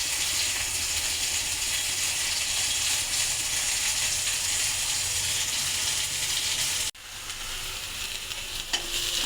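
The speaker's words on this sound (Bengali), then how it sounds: "দেখতে পাচ্ছেন আমি এখানে মাছগুলো ভেজে নিচ্ছি।" Fish frying in a pan gives a continuous loud sizzle with stirring scrapes, cut off by a sudden short break before the sizzling resumes slightly quieter, no talking.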